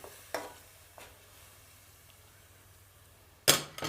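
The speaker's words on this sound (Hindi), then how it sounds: "अब 5 से 4 मिनट इसकी जो प्याज की भुनाई है हम वो करेंगे" Onion paste frying in a pot for a mutton malai handi gives off a faint low sizzle, with a few isolated scrapes or clinks of a spoon and a louder stir near the end, close by with no voices.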